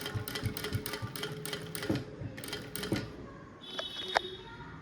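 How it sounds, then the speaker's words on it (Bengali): Hand embroidery on an eco-print kurti: close, repeated needle-and-thread pulls through fabric in a quick uneven rhythm of soft ticks and rustles, alone without talk. "তো দেখো আমি এরকমভাবে সেলাইটা করছি।"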